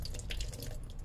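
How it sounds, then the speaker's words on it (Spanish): Tap water runs steadily into a sink to rinse makeup sponges, a continuous close splashing hiss with small irregular drips and spatters. "Voy a abrir el chorro de agua"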